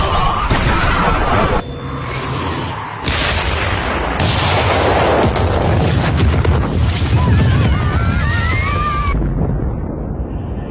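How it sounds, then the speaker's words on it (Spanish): A heavy explosion effect in an anime-style battle, a long rumbling roar with repeated booming bursts that stays loud throughout, ending in a fading whistle-like tail. "Tras calmarse la explosión"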